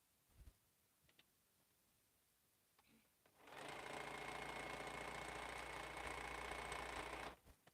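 A sewing machine stitching quilt squares starts after a few faint clicks and handling noises, then runs in a steady fast whirring drone for about four seconds before stopping abruptly.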